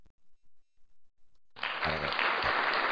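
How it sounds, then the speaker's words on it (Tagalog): Audience applause rising suddenly after a few quiet moments with faint voice, then a steady, dense round of clapping from a gathered crowd continuing to the end. "Kay aton niya tamyawon, kag aton niya nga palakpakan."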